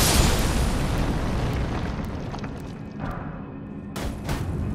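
A deep, rumbling explosion in Elden Ring fills the opening and decays into a long, loud roar, with a few sharper bursts toward the end and no talk.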